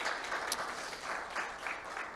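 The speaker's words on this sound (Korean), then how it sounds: "우리 축복하면서 박수하겠습니다" Church congregation at a Sunday service clapping in blessing of a newborn child, a continuous even wash of applause filling the whole short stretch.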